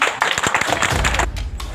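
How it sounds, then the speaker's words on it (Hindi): Crowd clapping at a panchayat election meeting, a brief loud burst of applause with sharp taps that fades into a low rumble. "एक बार जोरदार ताली।"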